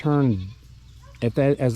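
Spanish goats bleating up close, one long wavering bleat followed after a short pause by two quicker, shorter calls.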